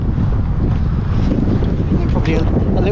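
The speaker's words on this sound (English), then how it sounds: "See how windy it is?" Strong wind blows across an open hilltop in the evening, buffeting the microphone with a loud, steady roar and low rumbling gusts that fill the whole stretch.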